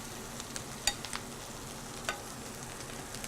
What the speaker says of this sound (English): Really dig all of those potatoes up, stir in all those veggies.